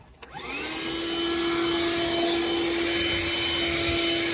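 A small vacuum cleaner switches on and settles into a steady high-pitched whine with a constant motor drone, running close by without any talk.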